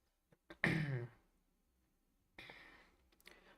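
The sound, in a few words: coughing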